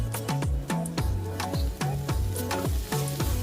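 Vegetables with salt, coriander powder and turmeric are stirred in an oiled pan, giving a steady sizzle with repeated scraping strokes of a spoon at a regular pace, close up.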